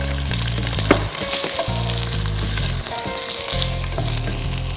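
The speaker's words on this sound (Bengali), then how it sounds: "আমি রাইস দিয়ে দিচ্ছি।" Rice tipped into hot ghee in a pan for saffron zarda sizzles loudly and steadily, with bursts of scraping and stirring over a continuous frying hiss, alone with no voices.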